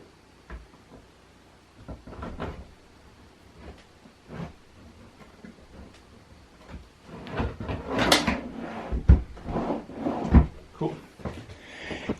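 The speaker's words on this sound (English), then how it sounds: "let's go ahead and get this last drawer installed here." A wooden desk drawer is fitted into place, making scattered knocks, taps and sliding scrapes that grow busier and louder toward the end, with no talking.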